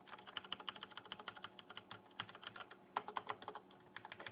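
Fingers type quickly on a CM Storm QuickFire Rapid mechanical keyboard with Cherry MX Red switches, producing a dense, irregular patter of light clicks and clacks, heard close and fairly soft with no voices.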